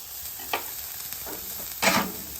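Vegetables sizzle on a hot propane Halo griddle under a steady background hiss, with two sharper bursts of frying and stirring, the louder one near the end.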